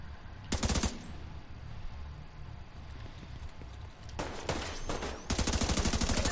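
Rapid automatic gunfire from the shooter game The Division 2 comes in several short bursts, with a quieter stretch of game ambience between them and a longer, loud burst at the end.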